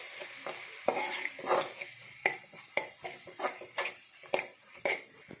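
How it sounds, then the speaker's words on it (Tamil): Egg, vegetables and masala with coriander and chilli powder sautéed in a pan for fried rice, a spoon scraping and stirring in steady repeated strokes over a soft sizzle, close and alone. "மசாலாவோட பச்சை வாசனை போகிறவரையும் நல்லா வதக்கி எடுத்துக்கோங்க."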